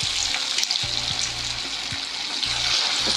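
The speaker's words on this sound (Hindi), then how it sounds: "फिर हम अपनी फ़िश इसमें डालते हैं फ्राई करते" Fish fries in hot oil on full flame, giving a bright, hissing sizzle that is close and steady for a few seconds, with no talking.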